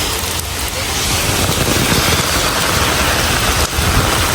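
Heavy monsoon rain pouring down in Kerala, a loud, steady broadband wash with no break, briefly dipping once near the end.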